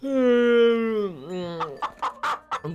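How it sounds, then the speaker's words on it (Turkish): Chickens in the Minecraft video game cluck in a quick series of short, close bursts, right after a person hums a long drawn-out note. "Tavuk sesi ne oğlum?"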